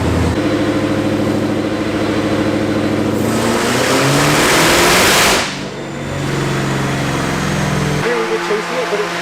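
A Whipple-supercharged Mustang engine revs loudly and steadily, surging to a high-pitched peak before dropping back to a lower, rough idle near the end.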